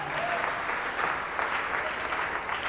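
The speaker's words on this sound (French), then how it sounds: "Pendant que je applaudis bon Dieu." Applause from a church gathering, steady dense clapping throughout with no break and no clear voices rising above it.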